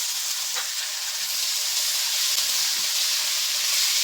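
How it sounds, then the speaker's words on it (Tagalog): Garlic and onion fry in a pan as chicken is added, a loud, steady close sizzle and hiss with a few soft clicks and stirring scrapes. "Ayan, ang bango na ng ating bawang at saka sibuyas. Ang sunod po nating ilalagay ay ang ating chicken."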